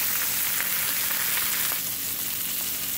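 Fish fries in a skillet with basil, garlic and ginger, giving off a steady, dense hiss and crackle. The sizzle stays loud and constant throughout, with no speech over it.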